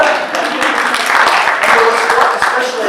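An audience at a First UU gathering applauds in a loud, steady patter of many hands that continues throughout with no pause.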